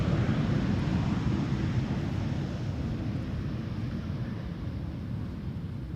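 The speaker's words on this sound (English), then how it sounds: "Atlas Air flight 8209, arriving from Miami, Florida. 7478" Atlas Air Boeing 747-8 cargo plane arriving on the Polderbaan runway at Schiphol, a steady broad roaring rumble with wind noise, loud and continuous and fading only slightly.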